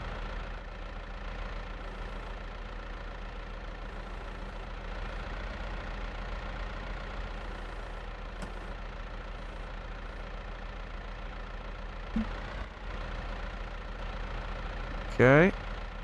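A tractor engine idles steadily in Farming Simulator 22, a constant low hum throughout with a brief louder clunk near the end, while a person talks over it.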